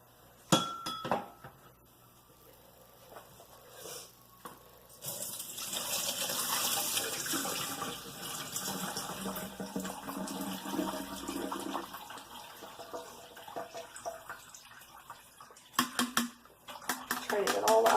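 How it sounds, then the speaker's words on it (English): Homemade almond milk made from slivered almonds is poured through a strainer to remove the almond meal, giving a steady liquid gush with clinks of a container, fairly close and continuous for most of the clip, under occasional faint talk. "I'm going to strain this out first."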